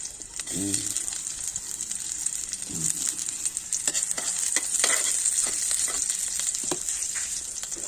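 Leaves frying in hot oil in a pan for a sponge gourd and misua vegetable dish, giving a steady bright sizzle broken by repeated scraping stirs and soft clanks throughout, with no voices.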